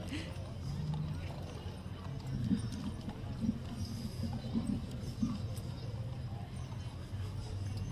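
Horses clip-clop steadily at a Christmas parade in Fayetteville, hooves sounding faint and distant beneath crowd noise and nearby voices talking.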